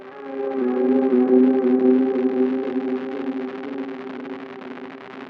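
A lo-fi sound disintegration effect plugin turns a sustained tonal chord, smeared by chorus and distortion, swelling then slowly fading, into a wobbly, degraded, crumbling texture.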